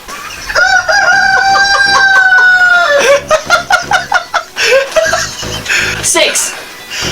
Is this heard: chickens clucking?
yes